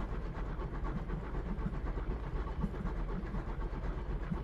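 A train travels along the tracks, a steady low rumble with a continuous rolling rattle of wheels running unbroken for several seconds, moderately loud with no voices.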